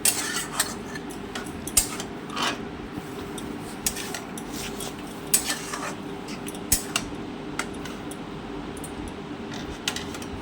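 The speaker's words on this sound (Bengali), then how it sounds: "তাই আরও একটু জল দিয়ে আমি ভালোভাবে নাড়িয়ে নিচ্ছি" Curry of bottle gourd greens with prawns and mustard being stirred in a pot after extra water is added, with repeated light metal scrapes and taps from a spoon over a continuous low simmering hiss.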